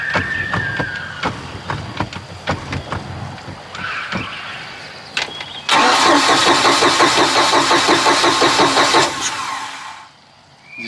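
A 3.0 MerCruiser engine in a neglected Bayliner boat cranks steadily for about four seconds with a fast rhythmic churn, after a run of clicks and brief bumps. It stops short of catching, and no one talks.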